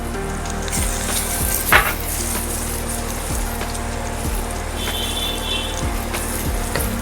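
Black masala sautéing in a pan, a continuous loud sizzle with a low rhythmic thumping underneath and an occasional sharp clink of a utensil, no one speaking.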